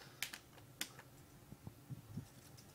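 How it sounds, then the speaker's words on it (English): Soft clicks of a computer keyboard as someone types a chat or code, a few scattered keystrokes and short clusters, faint and quiet with no voices. "is typing a chat or a code in now with some question marks tactically inserted for maximum inconvenience"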